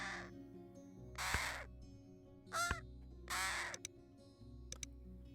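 A crow in the Wingspan board game calls four clear, loud caws in an uneven rhythm, followed by a few short clicks, with quiet gaps between.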